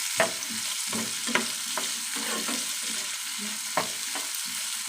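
Carrots and beans stir-frying in a pan, a continuous hiss of sizzling broken by repeated clanking strokes of a spatula stirring the vegetables, close and clear with no talk.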